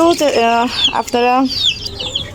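Chickens on a small farm raising birds for sale give two loud, drawn-out clucking calls close by, with quieter bird sounds between them.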